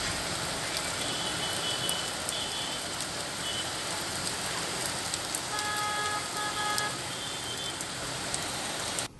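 Heavy afternoon rain pours down steadily across Bhavnagar city, a dense continuous hiss on surfaces with faint traffic and a distant horn beneath it.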